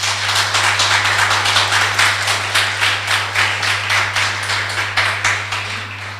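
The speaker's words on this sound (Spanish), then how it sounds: "Dele un aplauso al Señor." Church congregation clapping together in a fast, even rhythm, a continuous loud wash of hand claps over a steady low electrical hum.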